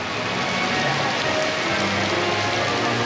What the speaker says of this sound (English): But here's that rain again.